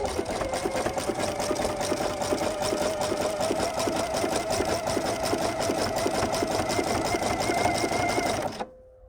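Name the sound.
sewing machine stitching fabric and elastic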